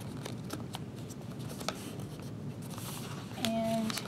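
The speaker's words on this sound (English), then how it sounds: "So again, that's folding in half. Folding your corner." Paper pages from a recycled book being folded at the corners for a hedgehog photo holder craft, giving a steady close rustle and scrape of creasing, with a brief faint tone near the end.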